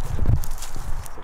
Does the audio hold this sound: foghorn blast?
no